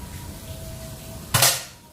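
A single sharp shot from a Mouser Biggame PCP air rifle with a 3500 PSI stainless tube, a crisp loud crack that fades quickly after quiet surroundings.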